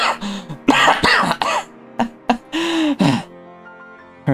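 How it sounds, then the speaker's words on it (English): A woman coughs painfully in the visual novel Umineko, a string of harsh, separate coughs and throat-clearing bursts with short gaps between them. "Her insane laughter turned into a painful cough."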